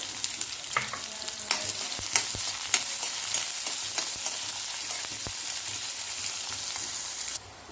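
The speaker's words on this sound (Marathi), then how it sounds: "कांदा इथे छानपैकी भाजून घेऊयात तांबूस होईपर्यंत कांदा भाजून घ्यायचा" Chopped onion and peanuts fry on medium-low heat in a pan, giving a steady close sizzle with frequent scraping stir strokes that continue for several seconds before the sound cuts off suddenly near the end.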